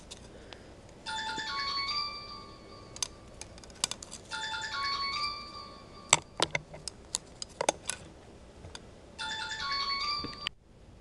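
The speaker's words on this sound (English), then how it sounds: "You probably heard that was the phone" A telephone rings indoors in repeated electronic bursts, three clear ring cycles separated by pauses, with sharp clicks and taps of knitting or handling in between.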